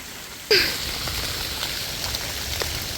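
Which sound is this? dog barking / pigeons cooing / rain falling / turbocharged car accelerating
rain falling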